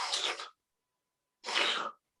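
A person imitates a moviegoer sniffing, producing two loud, breathy nasal sniffs about a second apart with silence between them.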